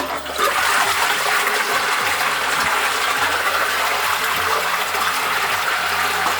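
Tap water runs steadily in the bathroom of an abandoned house in Japan, a loud continuous gush with faint mechanical rattles and low hum beneath, no speech.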